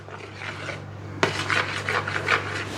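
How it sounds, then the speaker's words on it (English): Spoon scraping and rubbing around a bowl as peppermint oil is stirred into a slice mixture, a steady rasping swirl starting after a short quiet hum and continuing close and moderately loud. "So we're going to mix that together till it's all blended in"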